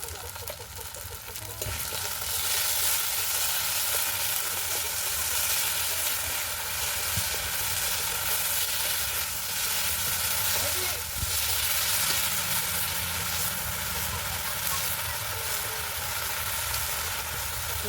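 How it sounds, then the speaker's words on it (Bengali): A besan curry base of ginger-cumin paste and tomato fries in a pan. A loud, continuous sizzle with stirring runs almost eighteen seconds after a quieter opening moment. "টমেটোর সাথে ভালো করে ভেজে নেব"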